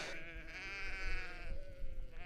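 Sheep on an upland hill farm bleat in a long, wavering call, loud and close, with a second bleat following, against steady outdoor background noise.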